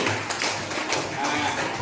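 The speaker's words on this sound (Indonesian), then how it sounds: "Bagus, tepuk tangan" A class of pupils claps hands together in a schoolroom, a dense, steady patter of many palms running for about two seconds at moderate loudness.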